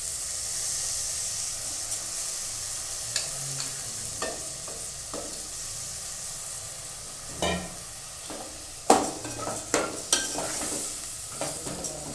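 Soaked rice being stirred into a hot pot for coconut milk rice, a continuous sizzle and hiss with repeated scraping spoon strokes growing more pronounced toward the end.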